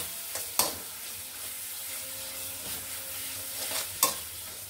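Shrimp with salt and coriander frying in a pan, a steady close hiss with faint stirring and a couple of sharp utensil knocks, no voices.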